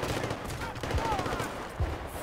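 Sustained automatic gunfire in Battlefield Bad Company 2, dense and continuous at moderate loudness, with a few heavier thumps mixed into the rattle.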